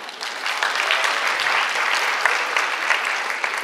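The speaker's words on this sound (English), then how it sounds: "give a big applause again to Yip Lin." A concert audience applauds at a university culture concert, a dense, steady wash of clapping that holds evenly for a few seconds with no talk over it.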